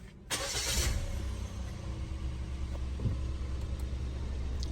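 Suzuki Jimny engine cranking briefly and catching, then settling into a steady low idle rumble close by, with no talk over it.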